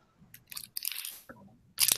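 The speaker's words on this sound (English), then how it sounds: "Whoever's chewing, if you could mute your mic." Close-miked chewing from a participant in an online group meeting: several crunchy bites and mouth noises arrive in short bursts, with a louder crunch near the end.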